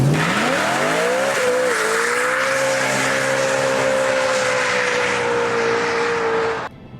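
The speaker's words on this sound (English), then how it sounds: "it's guaranteed to get the rear wheels spinning. Even more so if you turn the traction control off" BMW M3 with traction control off spinning its rear wheels on a driveway: a loud, sustained tire squeal rises in pitch and then holds steady over a roaring engine for about six seconds before cutting off abruptly.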